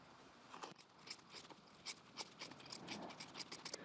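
Scissors cut through two layers of seam allowance on a coat, giving soft, close, irregular snips and scratchy fabric rustles that get a little louder toward the end.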